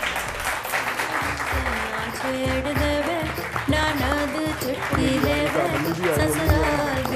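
An audience at a weekend talk show claps loudly and steadily for several seconds as retired Colonel Hasnain Jafri and his wife are welcomed on stage, with a host's voice heard over the applause.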